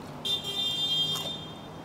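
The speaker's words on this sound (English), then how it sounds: "I said honk because somebody honked" A car horn sounds once outside, a single steady high-pitched honk lasting about a second, moderately loud over a faint background.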